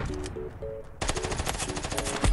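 MP5 submachine gun fire in the mobile shooter Standoff 2: a short tone, then a loud continuous rapid burst of shots lasting over a second, alone without talk.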